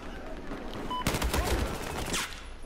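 Automatic rifle in Battlefield 4 firing a short rapid burst of shots that stands out for about a second over quieter game sounds in the background, with faint talk around it.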